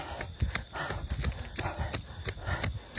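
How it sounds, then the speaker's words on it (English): Horses move about nearby, with irregular hoof clops and shuffling thuds over a steady background hiss, fairly faint and with no one talking. "See these horses right here?"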